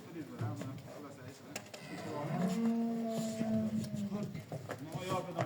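A cow lets out one long, drawn-out moo at a busy cattle market, fairly close and loud, rising and then holding steady, with people's voices and other crowd noise around it.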